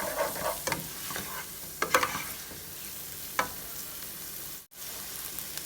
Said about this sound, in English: we're going to go ahead and just sweat those down until they're nice and tender